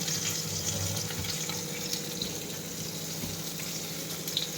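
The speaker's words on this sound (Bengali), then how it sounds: "আমাদের মাছটা ভেজে যাচ্ছি" Fish sizzles in hot oil in a home kitchen pan, a steady dense crackle and hiss that runs continuously at moderate level with no voices.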